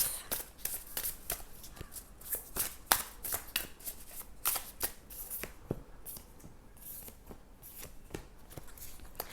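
Tarot cards are shuffled by hand before one card is drawn, giving close, quiet bursts of riffling and snapping in an uneven rhythm, with no talking.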